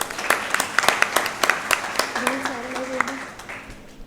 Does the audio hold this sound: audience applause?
yes